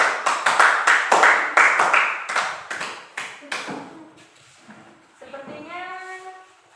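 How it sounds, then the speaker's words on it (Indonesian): A classroom of students claps for a fellow student, about a dozen sharp, evenly spaced hand claps fading out, followed by a voice. "Beri aplaus buat Mbak Reva ya"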